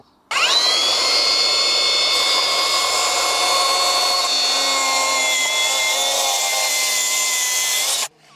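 A Milwaukee track saw cuts through large timber, spinning up sharply and then holding a loud, steady, high whine for about eight seconds before stopping abruptly.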